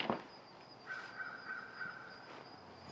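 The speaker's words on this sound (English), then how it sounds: "Now I'm hearing those crows." Faint crows cawing at a distance, a few harsh calls over quiet outdoor background noise near beehives.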